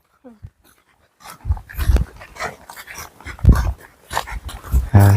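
A dog whimpers and pants in a series of short, uneven bursts, fairly close, with a louder burst near the end; no speech is heard.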